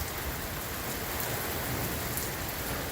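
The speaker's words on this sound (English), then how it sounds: "And the rain's coming inside the garage." Heavy rain pours steadily outside a garage during a hailstorm, a dense, continuous hiss of drops striking surfaces, close and loud with no pauses.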